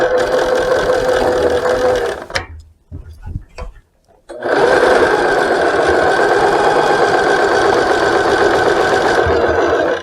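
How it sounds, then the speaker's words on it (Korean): A sewing machine stitches along a bag strap in loud, steady runs, stopping briefly for a few seconds of quieter handling before the motor resumes its continuous hum. "다시 발판을 지그시 눌러 박아줍니다"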